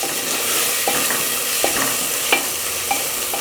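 Fresh mint leaves are stirred into ginger-garlic sizzling in oil in a pan while making green peas pulao, with a steady close frying hiss broken by a few scraping strokes of the spoon.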